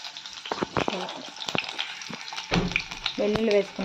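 Crushed raw garlic frying in hot oil in a pan for Andhra tomato tamarind rasam, a close crackling sizzle with stirring scrapes that swells louder near the end while a voice talks over it.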